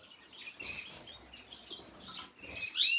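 Bright, high chirps from a male finch in short repeated bursts, close and clear over a quiet background with faint rustling.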